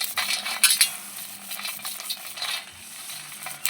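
Roasted almonds are rubbed by hand to peel off their skins for homemade almond oil, giving close, dry, crisp rustling and light clicking, irregular and fairly quiet, with a few sharper ticks.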